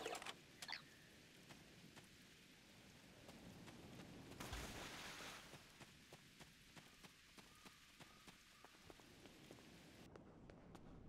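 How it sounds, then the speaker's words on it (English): Rain falling in the video game Star Trek Online, a faint, steady patter of drops with scattered light ticks and no speech over it. "Wow, rain on Ryza? I guess they haven't installed the weather control systems yet."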